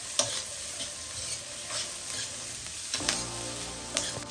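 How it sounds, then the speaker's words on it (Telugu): Capsicum fries on high flame in an iron kadai for kadai paneer, a constant close sizzle broken by scraping stirs and a few sharp clinks of the spatula against the pan, with no voices. "చూసారుగా ఇలా క్యాప్సికమ్ అనేది ఇలా కొద్దిగా వేగితే చాలు"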